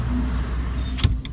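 Steady car traffic rumble heard from inside a moving car, a low continuous drone with a brief knock and a soft rattle near the end, no talking.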